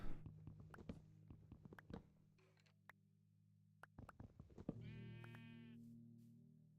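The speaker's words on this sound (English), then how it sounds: "Oh, sheep." A Minecraft sheep lets out a short, wavering bleat midway, among soft game clicks and footsteps in a quiet modded survival world.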